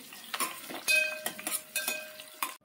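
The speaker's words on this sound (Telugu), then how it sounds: "మనం కట్ చేసి పెట్టుకున్న ఆనియన్స్, పచ్చిమిర్చి ముక్కలు, కొంచెం పుదీనా అన్నీ వేసుకొని మంచి బ్రౌన్ కలర్ వచ్చేంత వరకు వేయించుకోవాలి" Chopped onions, green chilies and a little mint frying in a pan, stirred with a spoon in a series of scraping, clattering strokes over a soft sizzle, with no talking.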